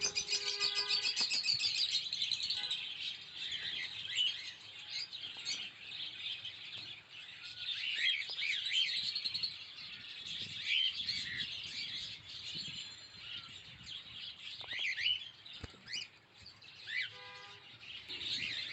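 Caged cockatiels at the Katabon pet market in Dhaka keep up a steady stream of high chirps and whistles, a dense flock chatter that carries on throughout with faint background noise.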